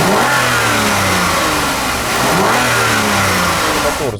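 A Toyota Camry V55 with its 3.5-litre V6 revving hard, the engine note rising and falling in repeated loud blips close to the car, no voices present.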